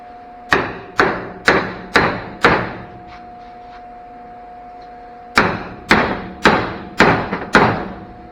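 Hammer striking a CV axle on an 88-99 Chevy truck: five sharp evenly spaced metallic blows, a pause with a faint hum, then another quicker run of five or six loud hits.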